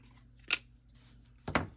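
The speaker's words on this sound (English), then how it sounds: "I just bought these scissors and they are so sharp." A pair of sharp new scissors snips paper while a mini album's corners are trimmed, two crisp separate cuts, close and quiet.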